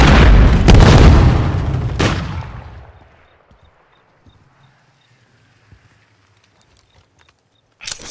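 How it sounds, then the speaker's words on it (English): A stun grenade going off in Modern Warfare 3 multiplayer: a loud, dense blast with a booming burst and a second hit about a second later, fading over a couple of seconds into near silence before a sharp final crack. "Stun grenade!"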